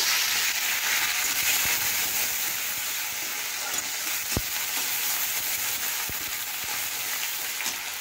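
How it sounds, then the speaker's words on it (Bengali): Green chilli and ginger paste fries in a pan with a steady, loud sizzle and hiss, broken by a few clicks of stirring. "আমি যে মশলাটা বেটে রেখেছিলাম, কাঁচা লঙ্কা বাটা, আদা বাটাটাও দিয়ে দেবো"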